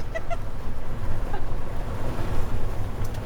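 A goose honks a few times close by, over a steady low engine rumble from inside a moving car.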